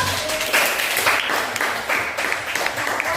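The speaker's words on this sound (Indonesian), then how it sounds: "Tepuk tangan dulu" Students in a classroom clap their hands at the end of a lesson, a short round of group applause with uneven bursts, moderately loud.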